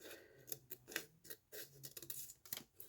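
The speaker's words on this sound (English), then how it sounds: "grab your scissors and cut out the designs" Scissors snip through printed paper designs in quick, close, crisp clicks, separated by brief pauses as the cut proceeds.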